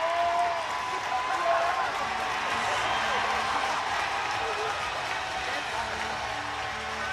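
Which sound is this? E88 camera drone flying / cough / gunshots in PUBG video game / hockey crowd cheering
hockey crowd cheering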